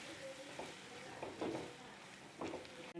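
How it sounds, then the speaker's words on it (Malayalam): Chicken with coriander powder and chicken masala is stirred in a sizzling pan for a chatti biriyani, with a steady fry and a few soft scraping strokes of the spoon. "മല്ലിപ്പൊടി, പിന്നെ ചിക്കൻ മസാലപ്പൊടി ചേർത്ത് കൊടുത്തിട്ട് നല്ലോണം മിക്സ് ചെയ്യാം."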